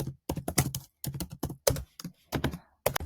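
Close computer keyboard typing in quick irregular bursts of clacking keystrokes with short pauses between words, no voices.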